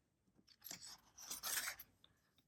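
Scissors snip through metallic paper to cut out a frame, a few quiet close crunching cuts in uneven strokes, with the longest, loudest cut near the middle and no speech.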